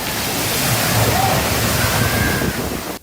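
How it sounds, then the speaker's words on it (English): Several hundred gallons of water pour from a giant tipping bucket onto a cruise ship splash zone aboard the Carnival Panorama, a loud continuous rushing splash that fills the whole stretch before cutting off abruptly at the end. "a big bucket of water that every 4 minutes tips over and dumps several hundred gallons of water on whoever dares to be underneath it"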